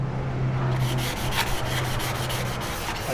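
Sandpaper rubbing the face of a car clutch plate to clean off oil and grime, a steady scratchy back-and-forth scrubbing heard up close with a quick repeated rhythm.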